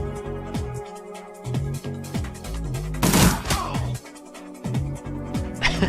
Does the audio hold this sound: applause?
no